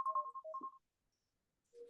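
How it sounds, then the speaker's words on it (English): Phone alarm ringtone in a quiet lecture room, a short run of bright electronic beeping tones that stops, then a brief tone returns at the end, with no talk over it. "that was my alarm to tell me something"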